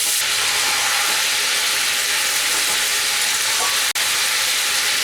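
Loud, continuous sizzling of mixed vegetables frying in a hot pan over a medium gas flame, a dense hiss that drops out for a split second midway.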